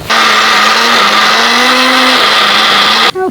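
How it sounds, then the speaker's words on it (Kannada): Mixer grinder grinding roasted wheat into fine powder, a loud, steady motor whine with a slight pitch shift that cuts off abruptly near the end. "ಇನ್ನು ನಾವು ಅದೇ ಮಿಕ್ಸಿಗೆ ಆವಾಗ ಹುರಿದುಕೊಂಡಂತಹ ಗೋಧಿಯನ್ನು ಹಾಕಿ"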